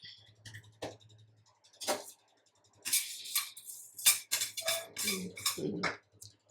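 Coriander seeds roasting in a pan, stirred with a spoon, giving scattered light scrapes, taps and rattling clinks in irregular bursts, close but fairly quiet over a low background hum.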